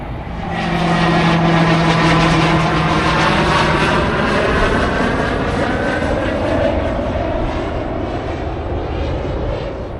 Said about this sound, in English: Tons of helicopters and airplanes,